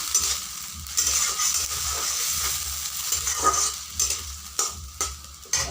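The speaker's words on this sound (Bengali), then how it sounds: "সামান্য একটু জল দিয়ে দিলাম, তাহলে মশলাগুলো ভালোভাবে কষানো হবে।" Spices for an egg curry fry in a pan with a splash of water, a steady hissing sizzle broken by repeated stirring scrapes and bursts of spatter.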